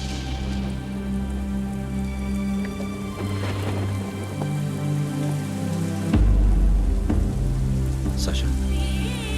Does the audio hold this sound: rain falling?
yes